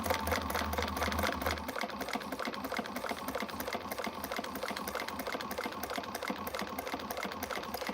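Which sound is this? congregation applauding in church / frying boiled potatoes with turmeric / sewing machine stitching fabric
sewing machine stitching fabric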